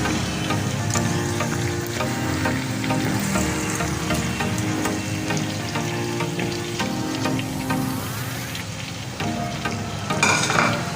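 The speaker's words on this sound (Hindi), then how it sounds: "अब इसमें आलू डालेंगे हम, इनको फ्राई करेंगे।" Potatoes fry in a pan for a vegetable curry, a loud, continuous close sizzle with occasional scraping from stirring throughout.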